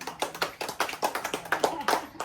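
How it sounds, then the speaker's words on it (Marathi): An audience claps for a woman performer at a Marathi gathering, a steady run of hand claps at moderate level with rhythmic peaks throughout, no talking. "छान आणि ताईसाठी टाळ्या वाजवा"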